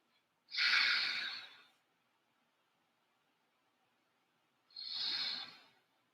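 Two slow, breathy exhalations during a yoga session, each lasting about a second, separated by a few seconds of near silence, close and soft.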